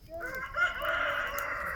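A chicken on a rural farm gives a single drawn-out, wavering call. It is fairly faint against a quiet background, with no talk.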